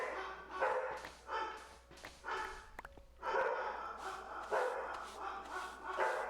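Dogs bark indoors in a home, a series of loud, close barks in repeated bursts with short gaps, continuing through the clip without speech.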